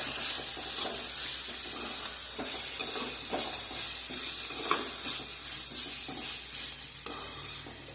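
Cumin seeds fry in hot oil in a pan for egg bhurji, a steady close sizzle and crackle with a few faint stirring scrapes and no voices.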